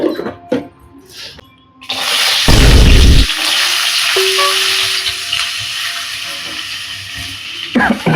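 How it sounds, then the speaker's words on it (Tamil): Cinnamon hits a little hot oil for a homemade Chettinad chicken dish, bursting into a loud, close sizzle that settles into a steady hiss, with a few utensil clinks before it. "அப்புறம் பட்டை போட்டுக்கிறோம்"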